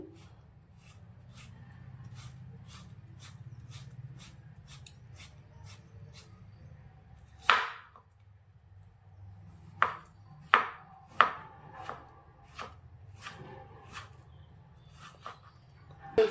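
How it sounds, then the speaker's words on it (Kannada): A knife chops a piece of musk melon into small pieces on a board, sounding as a run of crisp, evenly spaced taps followed by a few heavier, sharper chops, close and fairly quiet with a soft low background hum. "ಇದನ್ನು ಚಿಕ್ಕದಾಗಿ ಕಟ್ ಮಾಡ್ಕೊಂತೀನಿ."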